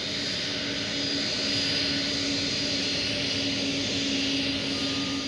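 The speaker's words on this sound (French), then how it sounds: "C'est lui qui est chargé de guider l'avion dans les derniers mètres" An airliner taxiing the final metres to its parking stand at Roissy airport, its jet engines holding a loud, steady whine and roar close by with no break.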